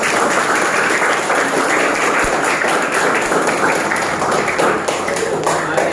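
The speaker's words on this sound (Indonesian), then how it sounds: "yuk tepuk tangan untuk kita semuanya" A classroom claps together at the end of a lesson, a dense, steady wash of many hands held at full volume throughout, close and loud.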